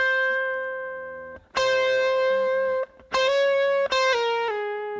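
An electric guitar played through a boom box gives a gritty, buzzy tone. Loud sustained notes and chords ring out in several strummed bursts with brief gaps between them.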